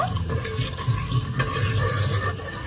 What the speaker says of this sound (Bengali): এবার চিনিটাকে আমি খুব সুন্দর করে গলিয়ে নেব